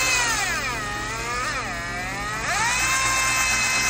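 A BM 9000 electric fishing reel runs at full throttle with a continuous motor whine. Its pitch dips and climbs in smooth sweeps over a steady mechanical hum, close and fairly loud.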